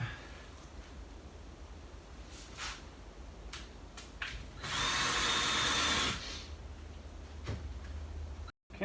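A drill drives screws into a cabin door under bear damage repair, a few short whirring bursts and then one longer run, fairly close amid quiet room ambience.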